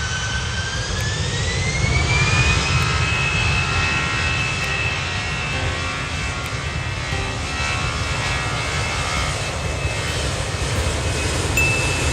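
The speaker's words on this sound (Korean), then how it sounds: "비행기가 활주를 시작하기 전에는 이런 소리가 납니다." A jet airliner's engines hold a loud, steady roar with a rising turbine whine on the runway just before the takeoff roll, a continuous near drone with no voices.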